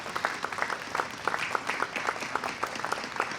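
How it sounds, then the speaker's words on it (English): An audience at an outdoor Progress Pride flag blessing ceremony applauds, a fairly faint, steady patter of many hands clapping continuously for a few seconds without a voice over it. "also a round of applause for the LGBTQ commissioners, Jim Petosa, John McDonald, Chris Walker"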